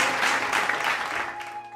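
Loud applause from an audience after a correct answer on a quiz programme, a brief burst of dense clapping that fades within about two seconds.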